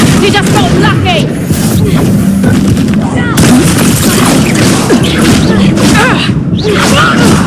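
Explosive Confringo spell blasts from Hogwarts Legacy combat, a dense run of loud, booming bursts with crackling debris that overlap one another almost continuously, while a voice talks over the fighting.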